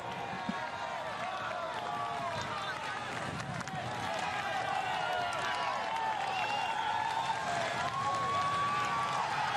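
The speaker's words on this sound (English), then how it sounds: "Good crowd to cheer the cyclists through" A roadside crowd in a town centre in Ypres cheers and claps as cyclists race through during Gent–Wevelgem 2016, a continuous busy roar of voices and applause held close and steady for the whole stretch.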